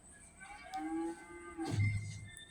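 A cow in Red Dead Redemption 2 lets out one long, drawn-out moo that slides downward and ends in a low, rough grunt, heard clearly against faint ambient game background.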